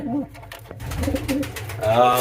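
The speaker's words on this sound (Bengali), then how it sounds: "লম্বাটা হচ্ছে ওই নতুন কবুতর" Domestic pigeons, including a newly bought bird, coo in a loft with eggs and chicks: low, throaty, rolling coos repeat steadily and close by, swelling louder near the end, with a voice faintly present.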